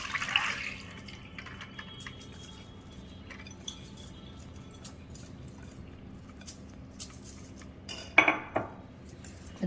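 Soaked moong dal is drained in a kitchen, its water tipped off with light clinks of a metal vessel and a soft watery spill, faint and close, with a louder clatter near the end and no talking.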